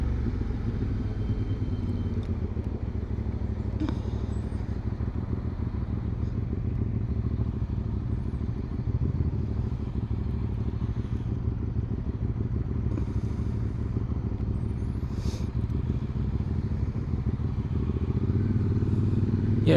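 A QJ Motor adventure motorcycle on a test ride drones steadily with a low engine hum and wind rush, held at a constant note for the whole stretch with no talk.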